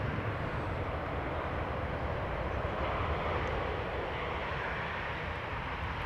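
A KLM Boeing 777-300 arriving from Vancouver at Amsterdam Schiphol makes a steady, distant broadband jet roar that holds evenly throughout with no talk.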